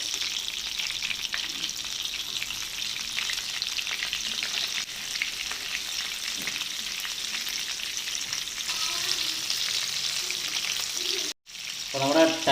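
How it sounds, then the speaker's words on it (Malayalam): Kerala-style tiger prawns fry in hot oil, producing a continuous dense sizzle and crackle for over ten seconds, with occasional stirring and a brief dropout near the end. "ടൈഗർ പ്രോൺസ് ഫ്രൈ നല്ല കിടലായിട്ട് ഫ്രൈ ആയിക്കൊണ്ടിരിക്കുകയാണ്"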